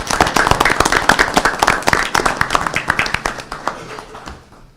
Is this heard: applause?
yes